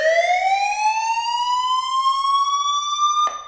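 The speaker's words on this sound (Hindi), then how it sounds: "ये जो आवाजें हैं वो होती हैं सिक्योरिटी अलार्म सिस्टम की।" A security alarm system siren wails loudly, one long electronic tone sliding steadily upward in pitch before cutting off abruptly.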